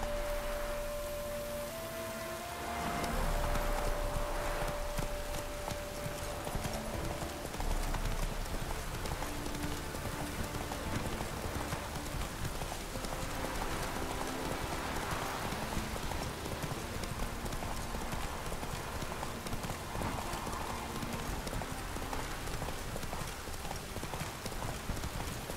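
Hooves of a horse named Roach clip-clop steadily at a trot in a video game, a continuous close rhythm over a soft rain-like background wash.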